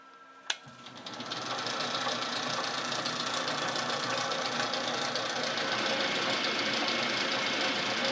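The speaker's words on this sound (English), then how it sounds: "You can hear it slowing down." A sharp click is followed by a Boxford lathe's motor, a steady mechanical whir and hum that holds at an even level, heard close with no speech.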